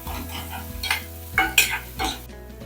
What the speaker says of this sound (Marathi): कांदा ब्राऊन करून घ्यायचा आहे जोपर्यंत ब्राऊन कलर येत नाही तोपर्यंत त्याच्यामध्ये तेलामध्ये परतून घ्यायचं